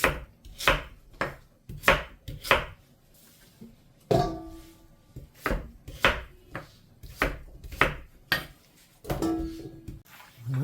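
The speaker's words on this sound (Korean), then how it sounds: "이렇게 큼지막하게 썰어서 준비하면 되고요" A knife cuts radish into large cubes for kkakdugi on a cutting board with about fifteen close, firm thunks in irregular bursts separated by brief pauses, no voices.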